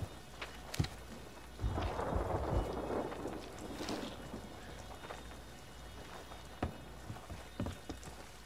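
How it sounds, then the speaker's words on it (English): Thunderstorm at sea in the Sea of Thieves video game: steady rain hiss with low thunder rumbles and a few sharp cracks, heard at moderate distance and fairly quiet overall. "the storm is right over top of Lookout Point or whatever, right now"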